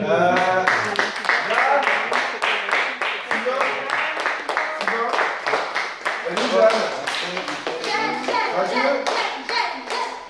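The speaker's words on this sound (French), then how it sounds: "Est-ce qu'on peut les applaudir?" An audience claps in quick, distinct strokes after a presentation at an event on responsible consumers and producers. The clapping is close and lively throughout, with children's and adults' voices chattering underneath.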